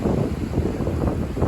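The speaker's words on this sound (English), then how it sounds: "And it's windy." Strong wind at a misty shoreline buffeting the microphone, a steady loud low roar and rumble with no voices.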